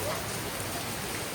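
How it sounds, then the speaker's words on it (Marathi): Steady rain falls throughout during a baby shower function, an even dense hiss of drops with no pauses and no voices heard. "गाईज बघा, फंक्शन आहे आणि पाऊस बघा."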